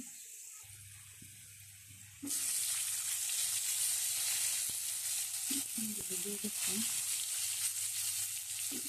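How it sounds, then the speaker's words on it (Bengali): Flat beans dropped into a hot pan of lightly fried potatoes, setting off a sudden loud sizzle that stays strong and steady, with soft clinks of stirring over a quiet background hum. "এখন আমি সিমগুলো দিয়ে দেবো।"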